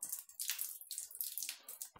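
Water runs from a tap and splashes against a finger held in its path, a close, soft hissing spatter with slight uneven surges over two seconds.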